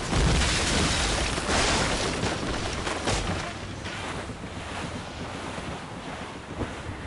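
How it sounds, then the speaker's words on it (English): Strong wind howls at sea in Assassin's Creed Rogue, a loud, continuous roar of gusts and surf around a sailing ship, easing slightly toward the end, with no voices. "Wind's getting vicious"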